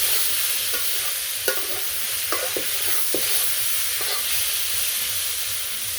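Snake gourd fries in hot oil with a steady, close sizzle while a spatula stirs it in a pan, giving a few sharp scrapes and taps over the hiss.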